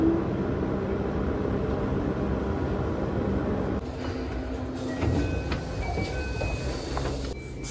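A Keihan Railway 13000 series commuter train runs steadily, heard from inside as a continuous rumble of wheels on track, quieting slightly partway as faint electronic tones appear.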